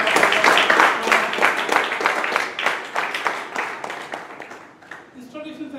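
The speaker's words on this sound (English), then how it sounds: "you deserve a round of applause" Applause at a club committee installation ceremony, a moderate group clapping in close distinct claps that swells early then gradually thins and fades near the end.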